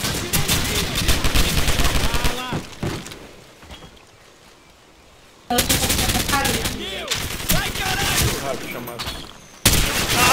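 Gunfire in the video game Call of Duty, loud rapid automatic bursts and shots that stop for a quiet stretch mid-clip and then resume, with a player's voice in the mix.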